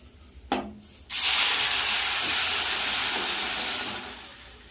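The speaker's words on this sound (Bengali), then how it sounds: "চালের মধ্যে জলটা দিয়ে দেব।" Warm water pours steadily into a pot of dried rice, a smooth continuous hissing rush lasting several seconds after a brief splash, close and fairly loud, gradually easing at the end.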